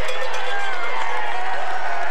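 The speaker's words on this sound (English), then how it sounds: "as they cheer him up towards the line" Roadside crowd cheering a Tour de France rider up the Col de Tamier mountain climb on stage 19, a dense, continuous roar of voices and shouts close by with no pauses.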